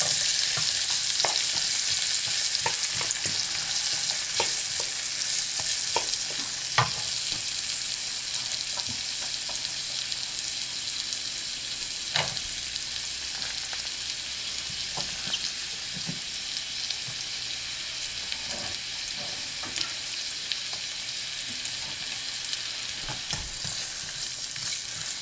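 Onion frying in a pot, a steady, loud sizzle with occasional stirring clicks and scrapes running throughout, no voices present.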